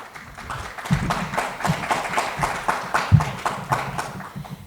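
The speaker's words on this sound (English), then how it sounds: "May we have a round of applause" Applause at a conference on commercialising Earth observation data, starting quietly and swelling into a moderate stretch of irregular clapping, with a few sharp claps standing out close by.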